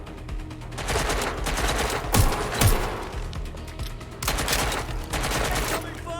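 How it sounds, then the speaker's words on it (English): Heavy gunfire in the video game Watch Dogs Legion, with sustained bursts of automatic fire and a couple of sharp louder shots, continuing steadily throughout. "They're shooting at us!"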